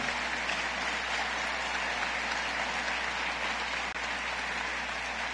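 Applause from the audience for Ecopetrol at an oil and gas summit, a dense, even roar of clapping that holds steady at a moderate level from start to finish.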